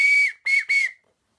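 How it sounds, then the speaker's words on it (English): A toy whistle is blown three times in quick succession, shrill and close, with a short first blast followed by two briefer toots, then silence. "a whistle."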